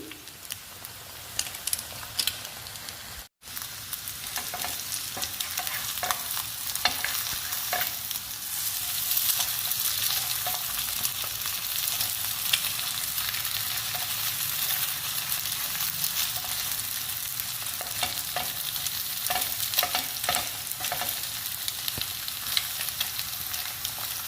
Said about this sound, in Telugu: రెండు వైపులా ఫ్రై చేసుకోవాలండి ఎగ్గును కూడా